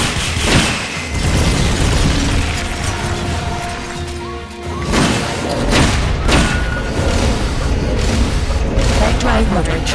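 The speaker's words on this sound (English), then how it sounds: "Flamethrower engaged. Firing rocket launcher." Rocket launcher firing in the video game Metal Gear Solid: Peace Walker, with loud booming blasts and explosive crashes among mechanical game sounds, under frequent spoken voices.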